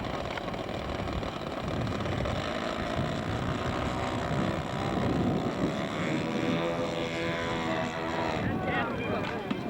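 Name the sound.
Russian twin-engine scale model aircraft flying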